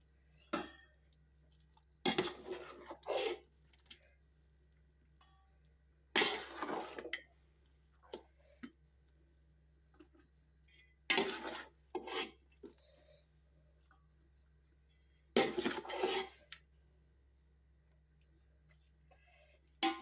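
Jackfruit biryani curry spooned out of a cooking pot into a separate vessel, heard as four bursts of scraping and clinking utensil on metal at regular intervals, separated by quiet pauses, close by with no talking.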